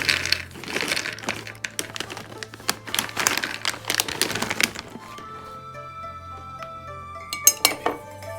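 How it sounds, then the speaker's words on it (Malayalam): Cashew nuts dropped onto a plate for microwave roasting, rapid clattering bursts of small hard pieces for about five seconds, then a few scattered clinks over a faint steady hum. "കുറച്ച് കാഷ്യൂനട്ടും കൂടി ഇട്ട് കൊടുക്കുകയാണ്."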